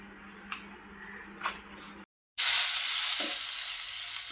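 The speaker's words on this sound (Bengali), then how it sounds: "এখানে পেঁয়াজ আর কাঁচামরিচ তেলে ভেজে নিচ্ছি" Onion and green chili frying in oil in a home kitchen, a steady loud sizzle that comes on suddenly after a brief silence, preceded by faint clicks and stirring.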